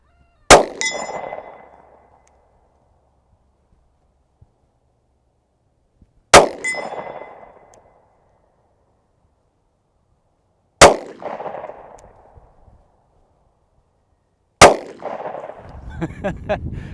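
A Diamondback DB9 Gen IV 9mm pistol fires four single shots, spaced several seconds apart, at steel targets 55 yards away. Each sharp crack is followed by a ringing metallic clang, with near-silence between shots.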